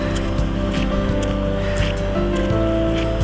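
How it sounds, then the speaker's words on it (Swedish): Steady ocean surf rolling in on the coast of northern Spain, a continuous loud wash of breaking waves with no voices. "Kommer vågorna in."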